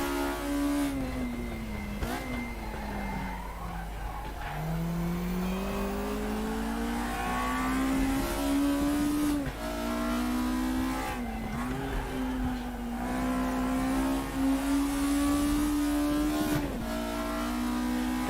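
Race cars run in RaceRoom Racing Experience, a front-wheel-drive car's engine droning steadily near and loud, its pitch dipping and climbing through shifts, with other cars and brief tire noise around it.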